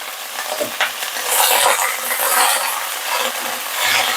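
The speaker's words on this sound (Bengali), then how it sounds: "এই ঘ্যাটকোল পাতাটা আর তার সাথে কাঁচা লঙ্কা দিয়ে একসঙ্গে কড়াইয়ের মধ্যে দিয়ে দিলাম" Ghetkol leaves and green chillies frying in a karai, a steady close sizzle broken by scraping stirs and clinks of a spatula, with no talk.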